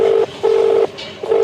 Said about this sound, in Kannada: ರಿಂಗ್ ಆಗ್ತೈತಿ, ಆದ್ರೆ ಇವನಿಗೆ ಹತ್ತಲಿಲ್ಲ